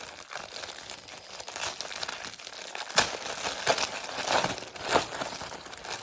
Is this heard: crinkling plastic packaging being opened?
yes